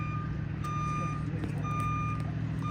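A small bulldozer reversing in the woods, sounding a steady repeating backup beep over a constant low engine rumble, heard close and loud without any speech.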